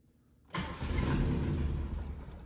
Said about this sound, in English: we're gonna try and start it up again